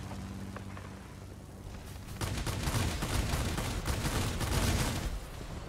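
Dense, continuous aircraft cannon and machine-gun fire from a Japanese Tachikawa Ki-94-I heavy fighter in World of Warplanes, starting abruptly and rattling steadily for several seconds over engine drone.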